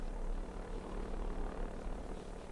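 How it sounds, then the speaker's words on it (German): Generator running in the winter horror game Frozen Winter, a continuous rumbling engine drone with a rapid chopping pulse, steady and fairly loud, easily mistaken for a helicopter. "Nee, das ist der Generator."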